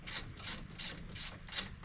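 A ratchet wrench tightening brake caliper slide pin bolts on a 2008 Ford Escape, five quick even clicking bursts in steady rhythm, close up and alone.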